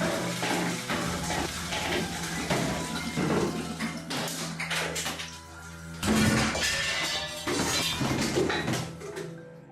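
A toilet seat in an empty bathroom flaps open and shut rapidly with force, making a fast run of loud clattering bangs and thuds, then a heavier crash partway through.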